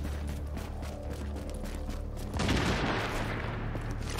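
Gunfire in Tom Clancy's The Division crackles as rapid shots over game ambience, then a louder burst of noisy fire takes over partway through.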